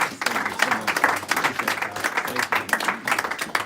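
Steady applause from an audience at a book launch, a dense wash of many hands clapping that carries on through the whole stretch with no pause.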